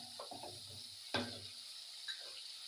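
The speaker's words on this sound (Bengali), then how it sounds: "মশলাটা ভালো করে কষা হোক।" Spice masala for an egg mustard curry frying in a pan, with soft sizzling and a few scraping stirs of a spoon, fairly quiet and close with no voices.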